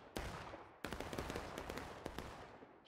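Musket and rifle gunfire in the Civil War game War of Rights, faint but sharp cracks, one early shot then a ragged volley of overlapping reports that trails off, heard at a distance.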